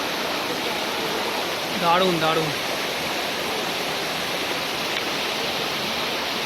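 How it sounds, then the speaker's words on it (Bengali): A small waterfall stream murmurs on a hill trek at Parasnath, Jharkhand, giving a continuous broad rush of flowing water nearby. A short spoken exclamation briefly rises over it near the middle. "ঝর্ণার কোলো কোলো শব্দ"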